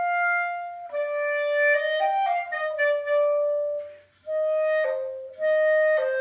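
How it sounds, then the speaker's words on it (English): A solo clarinet plays a warm, legato melody up close, its sustained notes gliding between pitches with a brief pause near the middle before the line resumes. "the clarinet often takes on the task of playing the melodies because it has a warm sound and is easy to hear over the top of other instruments"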